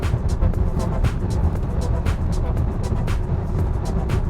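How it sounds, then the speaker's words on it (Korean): A Volkswagen ID.4 electric car accelerates in sport mode. A constant road and tire roar is heard from inside the cabin, broken by scattered faint ticks and knocks, with no engine note. "저는 지금 스포츠 모드를 바꿔서 앞에 뚫렸으니까 약간만 좀 밟아 볼게요"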